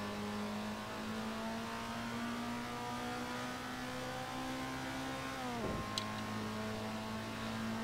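Simulated race car engine from the Assetto Corsa driving game, a steady sustained drone at constant revs with a brief dip and recovery near the end, loud and continuous with no talking.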